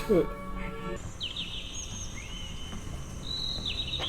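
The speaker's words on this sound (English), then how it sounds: "You got birds." Birdsong in a Doctor Who Mars-base scene: clear whistled chirps and sweeping tones ring out after a brief voice, over a low steady background hum.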